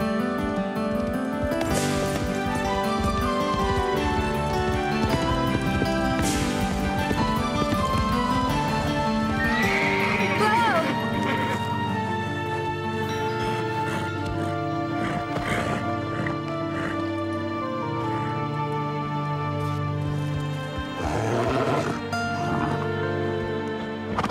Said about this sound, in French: Elle sort les chevaux de course de David McLeod.